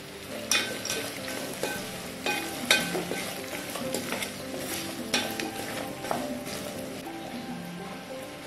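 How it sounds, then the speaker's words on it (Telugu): Onions frying with salt in a pan, a steady close sizzle with intermittent scraping and clinking as the pan is stirred, continuing without speech. "ఇప్పుడు ఆనియన్స్ గోల్డెన్ బ్రౌన్ అయ్యే వరకు ఇలా మూత పెట్టేసుకుని ఫ్రై చేసుకుందాం"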